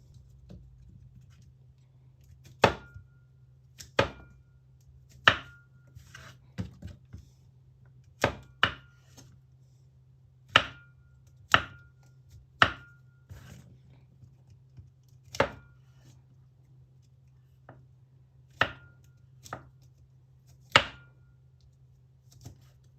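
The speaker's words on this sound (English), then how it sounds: "Slice the mushrooms into medium dice." A knife dices mushrooms on a cutting board with roughly fourteen crisp, separate chops spaced unevenly over about twenty seconds, close and clear against a low, quiet background hum.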